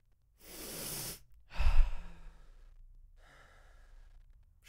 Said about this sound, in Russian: Что он так дышит-то?